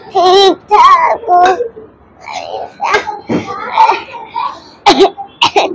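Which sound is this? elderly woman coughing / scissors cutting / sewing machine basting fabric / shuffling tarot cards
elderly woman coughing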